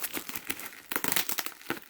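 Taped bubble wrap packaging crinkles and crumples up close in short, uneven bursts as it is pulled and torn open, with no talking.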